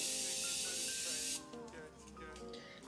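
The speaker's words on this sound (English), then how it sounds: "I'm almost out of this freaking Morphe setting spray." A bottle of Morphe setting spray gives a steady, close hiss of mist for over a second, then stops, and quieter handling noises follow.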